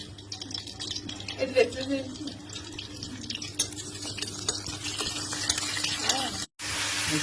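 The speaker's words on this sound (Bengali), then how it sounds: "আলু ভাজা হচ্ছে" Potatoes fry in oil in a wok, giving a steady, soft sizzle with some stirring and clatter close by, while voices talk over it.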